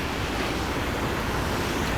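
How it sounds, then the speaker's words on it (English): Steady, loud broadband rush of a waterfall at a historic mill race, continuous with no breaks and no voices. "enjoy the waterfall for a little while"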